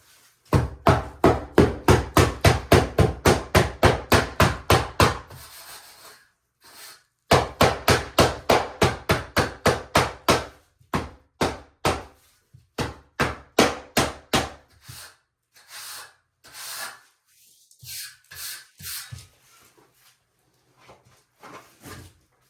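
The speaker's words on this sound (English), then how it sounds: "as you're packing it in there, you can go ahead and use your trowel and shave off what you know is going to be way too much" A trowel packs and shaves drypack mortar for a shower pan: rapid runs of sharp, evenly spaced slaps and taps, close and loud, broken by short pauses and slower, scattered strokes.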